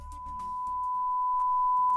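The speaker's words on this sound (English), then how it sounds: "You can do the classic consistent fade, which fades at a constant rate, like this." Audio getting a constant-rate fade in DaVinci Resolve: a steady high beep tone swelling evenly in loudness over two seconds, with faint low rumble underneath early on.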